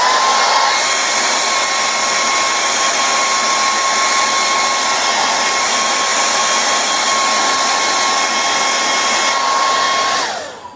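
Hair dryer on high heat blowing over a wig, a loud steady whooshing roar with a constant motor whine, running close by for about ten seconds before switching off.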